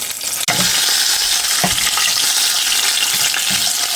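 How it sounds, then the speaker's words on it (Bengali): A hilsa fish tail fries in hot oil, giving a steady, loud, close sizzle with crackling spatter throughout. A sharp knock comes near the start, followed by a few soft scraping stirs. "মাছটা এমনভাবে ভাজা নিতেছি চারিদিক দিয়া"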